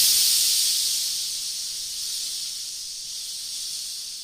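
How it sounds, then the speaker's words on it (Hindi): A pressure cooker cooking mutton lets off a loud, steady hiss of escaping steam that fades slightly and then holds level, continuous and close with no voices. "तकरीबन हमने 15 मिनट के लिए इसको प्रेशर कुकर पर लगाना है"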